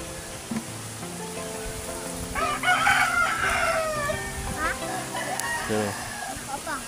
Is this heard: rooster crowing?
yes